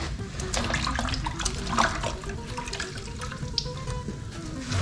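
Running water splashes steadily from a hose, a close continuous rinsing rush with no voices over it, as a car's rear wheel wells are rinsed with fresh water.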